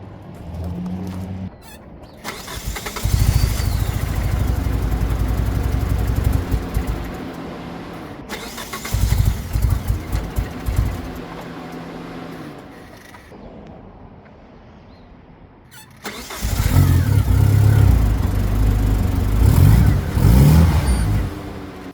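A DSM car's engine starts after an ECU swap, cranking briefly and then catching into a loud, close idle with revving surges, a quieter lull, and then another strong burst of engine noise.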